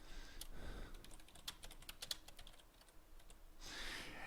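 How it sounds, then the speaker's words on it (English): Rapid keystrokes clatter on a computer keyboard during spreadsheet data entry, a quick uneven burst of light clicks over a soft background hiss. "You just simply click on any cell that you want to type in and you start typing."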